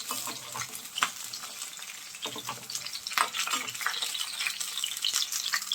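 Green chillies frying in hot oil for a millet multigrain dosa, a steady close crackling sizzle with sharp pops and stirring clatter, no talk.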